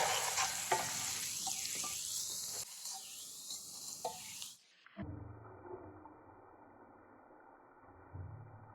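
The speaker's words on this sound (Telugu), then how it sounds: "నేను ఇప్పుడు ఒక్కసారి అలా అలా కలిపేసుకున్నాం ఆల్రెడీ అదే ఆనియన్స్ పచ్చిమిర్చి వేగాయి కూడా" Onions and green chillies frying in a pan, stirred with a utensil: steady sizzle with scraping strokes, then a softer, quieter fry toward the end.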